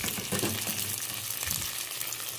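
Chicken fries without oil in a Flavorstone pan, giving a steady, close sizzling crackle that stays even throughout, with faint stirring or scraping touches and no speech.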